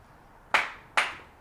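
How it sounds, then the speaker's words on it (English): Two sharp hand claps, close and fairly loud, about half a second apart, in an otherwise quiet room. "I'm clapping"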